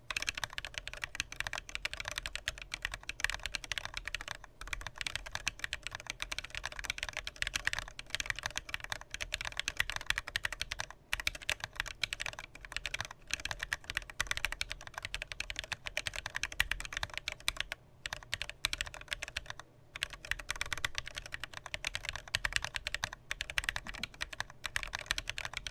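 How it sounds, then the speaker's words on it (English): Rapid, steady keystrokes rattle on a custom soda-themed mechanical keyboard, a dense run of clacks heard close up with brief pauses, no voices. "So that's the typing test on it."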